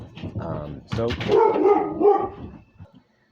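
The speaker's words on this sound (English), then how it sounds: "I apologize, that was my dog." A dog barks and yips several times in quick bursts near the microphone, mixed with a person talking, then fades out.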